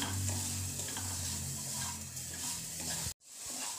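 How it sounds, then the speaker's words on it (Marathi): Coconut rice with sugar, salt and cinnamon being sautéed and stirred in a pan as the sugar melts: a steady close sizzle with scraping stirs throughout, cutting out abruptly near the end. "चांगलं आपण असं हे साखर वितळेपर्यंत परतून घेऊया."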